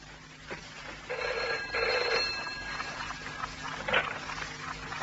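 Telephone ringing at 4:30 in the morning while a call is placed in a radio mystery drama, a repeated electronic bell-like tone sounding faintly and evenly against quiet room noise, with no talking.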